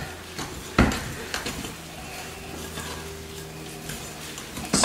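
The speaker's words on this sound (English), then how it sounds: "I'm gonna take my dough whisk. All I'm gonna do is just stir this up enough to mix it." A dough whisk stirs sourdough in a bowl, with a sharp knock against the bowl near the start, then soft intermittent scraping and sloshing strokes at close range over a steady low background hum, ending in a brief louder clatter.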